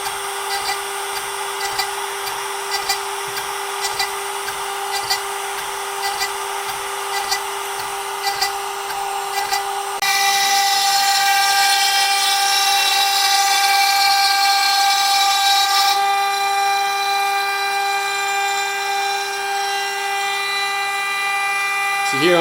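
A CNC router roughs out the truss rod cavity and bolt hole in a Red Special guitar test neck, a steady loud machining whine with sustained tonal lines and a rhythmic pulsing cut, shifting pitch partway through.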